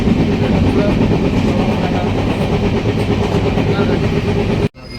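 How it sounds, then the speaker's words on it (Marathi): A train rumbles and clatters loudly and steadily close by, with a dense rolling roar that cuts off abruptly just before the end. "आत्ताची आपली ट्रेन आली आहे"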